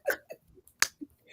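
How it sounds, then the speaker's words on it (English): Finger snaps in a quiet room, two or three sharp, isolated clicks spaced unevenly over about a second, close and fairly loud with short gaps of silence. "he was telling me to stop snapping my fingers"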